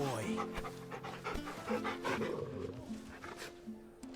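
A dog in Final Fantasy XVI pants heavily in quick, rhythmic breaths close by, with low growly, roar-like sounds mixed in beneath it.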